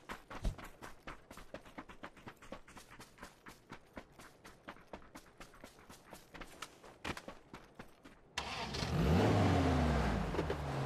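A car driving off in the game PUBG: after a stretch of quick, regular footstep-like taps, an engine starts loudly and revs up near the listener, rising in pitch as the vehicle pulls away.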